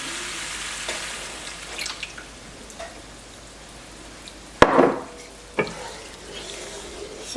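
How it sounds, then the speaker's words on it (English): A spoon stirs half and half into a bourbon steak sauce in a pan, giving a soft sizzle with scattered scrapes and a couple of louder clatters midway. "So I'm stirring this half and half in"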